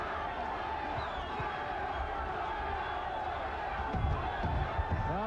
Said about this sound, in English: this crowd really getting into it in the final seconds of round 4